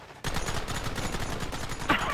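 A Gatling gun in a video game opens up abruptly and fires a loud, sustained rapid burst of shots that runs continuously to the end.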